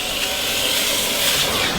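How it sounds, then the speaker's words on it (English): A wet and dry vacuum pulls water from dog-hair-covered car upholstery with a steady, loud airy hiss and suction roar that holds even throughout, close up and without talk. "when you're wet and dry vacuuming"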